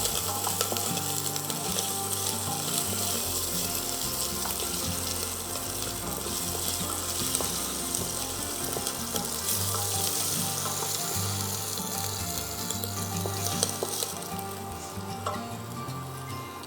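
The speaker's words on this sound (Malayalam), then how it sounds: "നമ്മുടെ ജിഞ്ചർ ഗാർലിക് ഒരു ഗോൾഡൻ ഒരു ചെറുതായിട്ടൊന്ന് ഫ്രൈ ആയി വന്ന പോലെ ഒന്ന് ആയിട്ടുണ്ട്" Ginger and garlic sautéing in a pan for Kerala chicken mappas give a steady, close sizzle with faint stirring scrapes, continuous and without talk.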